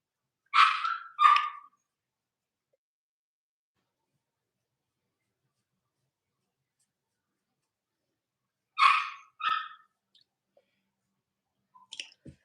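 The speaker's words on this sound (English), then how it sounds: "And he started doing all that barking like he ain't got no home training." A dog gives two quick sharp barks, then after a long silence barks twice more, close and clear, with a few faint clicks at the end.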